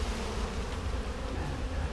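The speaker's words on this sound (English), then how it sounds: "I'll shake these bees into there as well." Honey bees buzzing in a dense, steady drone as they are shaken into a hive, a continuous close swarm hum with no voices over it.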